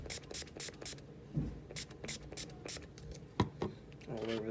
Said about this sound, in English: But I'm just gonna spray it.